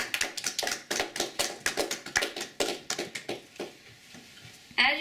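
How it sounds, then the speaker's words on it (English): A small audience claps for a volunteer after a speech-class demonstration of making a pop-up card, giving a few seconds of sparse, uneven hand claps from nearby with no voices. "let's show our appreciation by giving him a round of applause."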